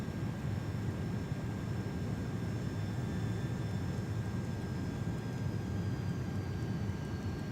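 Steady, droning jet engine roar from an A330-200 airliner in Microsoft Flight Simulator 2024 on PS5 Pro as the throttle is pulled back, a constant broadband hum with faint high whine tones, no voices.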